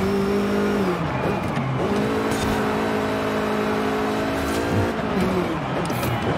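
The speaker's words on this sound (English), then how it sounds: "It's all the gear changing and the sounds, car sounds." A 1980 Renault Turbo rally car in Forza Horizon 5 revs hard with a buzzing engine note. Its pitch climbs, then drops sharply at each of several gear changes, heard loudly and steadily without talk.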